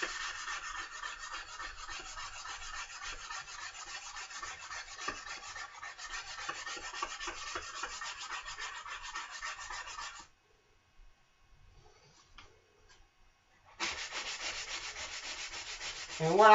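Hand sanding of a wooden piece during a restoration, with steady rhythmic rasping strokes, a pause of near silence partway through, then sanding resumes, close and clear.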